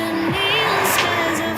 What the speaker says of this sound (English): Now you heard the car went by. That's all sound effects.